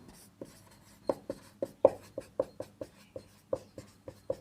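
A hand writes in quick, evenly spaced strokes, about a dozen crisp taps and scratches up close, with no speech.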